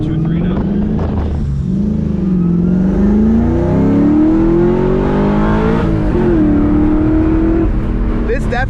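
A car with a forged engine accelerates hard through second and third gear, heard from inside as a loud rising engine drone with a shift in the middle, while people talk over it.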